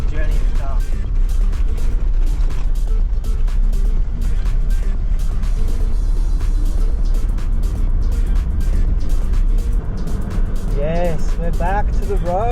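A car drives on a corrugated dirt road in Cape York at about 40 km/h, making a loud, constant rumble and rapid rattling vibration throughout, with a voice briefly heard near the end.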